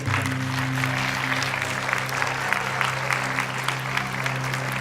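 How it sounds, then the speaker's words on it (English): A steady audience applause at a film event, with continuous dense clapping filling the room at an even level and a low hum beneath it. "Can I have a big round of applause?"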